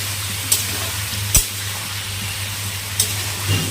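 Onions and tomato fry in a pan as a pasta sauce base, a soft continuous sizzle under a low hum, broken by a few sharp clicks and taps of a spoon stirring.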